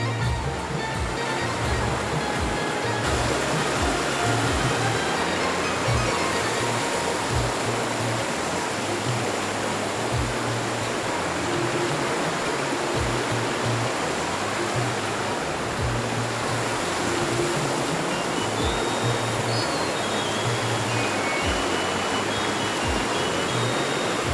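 A river rushes with a waterfall at Tiware in Konkan, a loud, unbroken wash of flowing water that fills the whole stretch with no pause.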